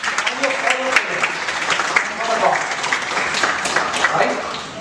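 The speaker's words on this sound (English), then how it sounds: "please give a big round of applause to your teachers" An audience applauds its teachers at an entrepreneurship and angel investment session, a steady bed of clapping over a few seconds with voices audible underneath.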